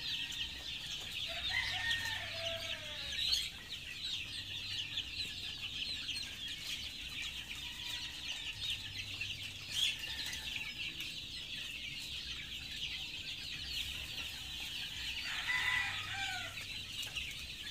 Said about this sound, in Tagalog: Sige nag-agaw-agaw kaning mutong-mutong sigig pamalo.